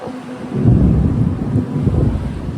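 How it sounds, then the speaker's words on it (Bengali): A dense, low rumbling wash of heavy early-morning rain builds quickly and holds steady, loud and close. "একই জোরে বৃষ্টি এসে গেছে"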